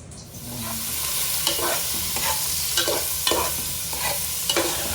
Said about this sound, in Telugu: ఆనియన్స్ బాగా మరగాలన్నమాట.